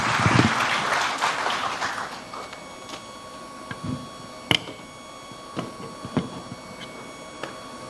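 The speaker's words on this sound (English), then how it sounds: "let's give a big round of applause for Mr. Liu" An audience at a foreign-policy forum in Indonesia gives a brief burst of applause for Mr. Liu. The clapping fades after a couple of seconds into quiet, broken only by scattered clicks and taps.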